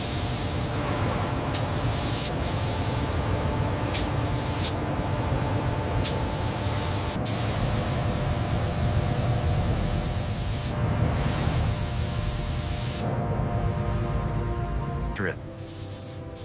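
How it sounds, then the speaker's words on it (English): Robots spray-paint a Tesla car body inside a sealed, pressurized paint booth, producing a loud, steady hiss of atomized spray that continues throughout with brief dropouts where the flow pauses. "6 synchronized robots apply the finish simultaneously"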